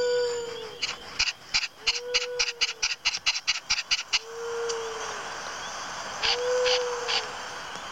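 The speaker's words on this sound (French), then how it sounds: "des fois on entend des hiboux ou autre, ou des chouettes" A soft, low owl hoot sounds several times at a slow, even pace in a night mountain scene from the video game Nintendogs + Cats, mixed with a quick series of sharp rhythmic clicks and a faint breeze.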